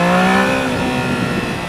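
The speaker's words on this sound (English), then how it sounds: "let's just accelerate from 70 to 100 here" A 2024 Triumph Daytona 660 motorcycle accelerating hard on the autobahn from about 70 to 100, its engine note loud and steady under heavy wind rush, with no talking.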